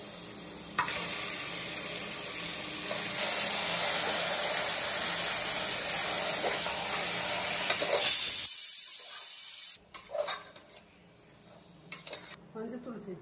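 Ginger frying in oil with garlic for a mutton curry, a steady close sizzle with occasional stirring clinks, then a sudden drop to quieter clattering of the pan and utensils.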